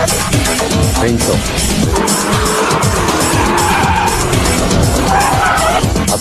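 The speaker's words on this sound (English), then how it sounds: "we will focus on the art of drifting performed by the Drift King himself, Keiichi Tsuchiya" Drift King Keiichi Tsuchiya drifts a car with continuous loud tire skidding and squeal over a roaring engine, sustained and close for the whole stretch.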